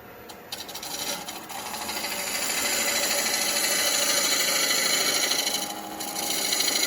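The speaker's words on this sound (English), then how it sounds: "if you're doing a nice bevel rubbing cut, you can see that there's very little force needed to do the cut" A woodturning gouge makes a bevel-rubbing cut on a spinning wooden hollow-form vase on a lathe, giving a close, continuous rasping scrape that swells and holds steady.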